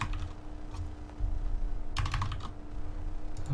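Rapid clicking of a computer keyboard as a title and body text are typed, steady keystrokes with a brief denser burst midway, close and moderately quiet with no voices.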